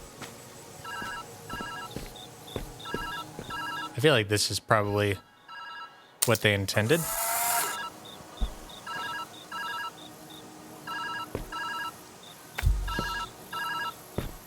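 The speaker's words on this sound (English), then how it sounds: "I want to restart the level so I can answer that damn phone." A telephone rings repeatedly in the puzzle game Viewfinder, bright electronic trills in regular bursts, while someone talks over it and short whooshing game effects cut in midway.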